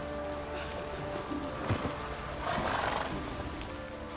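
Roach the horse in The Witcher 3 gives a short whinny and snort over a dense outdoor game ambience, with a rougher breathy burst following a moment later; no talking.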